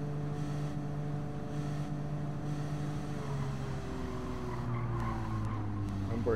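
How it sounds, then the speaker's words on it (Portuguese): A Lamborghini in a racing video game drives past with a steady engine drone whose pitch sweeps and shifts, tire squeal and skidding joining toward the end, loud and continuous with no talking. "Vamos ver o carro vai me passar aí e encerrar o vídeo."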